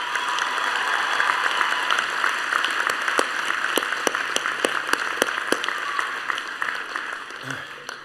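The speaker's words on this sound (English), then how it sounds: "let's give another round of applause to those who have helped" A university winter commencement crowd gives another round of applause for the graduates' helpers, a dense patter of clapping with a few sharper claps that thins out and fades toward the end.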